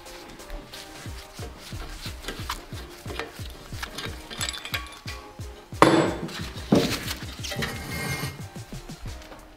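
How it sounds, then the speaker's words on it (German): A brake disc is worked off a Mercedes-Benz W140 500 SEL: a steady run of close metallic taps and knocks with ratcheting clinks, and two louder clanks of metal striking metal midway, with no talking. "Nun löse ich noch mein Konstrukt und nehme die Bremsscheibe ab."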